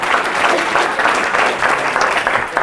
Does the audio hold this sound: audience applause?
yes